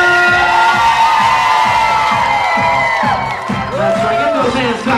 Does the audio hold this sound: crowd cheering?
yes